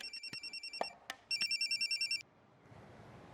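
A telephone ringtone sounds alone as two bursts of bright, rapidly pulsing electronic trills, the second longer, followed by quiet room noise.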